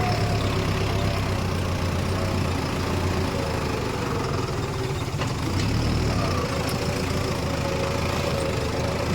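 A Sonalika 65hp 4x4 tractor runs during ploughing with a 14-inch plough, its engine a loud, steady, close diesel drone that continues without pause and with no talk.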